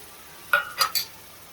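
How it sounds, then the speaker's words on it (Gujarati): Curd is stirred into gravy in a pan with three quick scraping strokes, close and brief, against a quiet background. "અને હવે બરોબર હલાવી દેવાનું"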